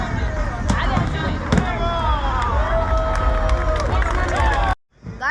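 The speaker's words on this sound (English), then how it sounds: "There is a big crowd over here." Dense outdoor crowd at a Lusail Boulevard event, a steady loud wash of many voices and footsteps with scattered sharp knocks and whistles, cutting to near silence just before the end.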